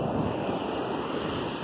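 Ocean waves wash onto a beach in a steady, broad roar, with wind buffeting the microphone throughout and no voices heard.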